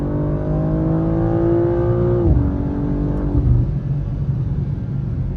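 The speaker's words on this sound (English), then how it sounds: "Let's do a little test pull on the freeway here in the normal mode" A BMW G87 M2 with a CS tune, running on E30 fuel, roars steadily on a freeway with rising pitch, then drops abruptly as it shifts gear and keeps pulling, loud and close.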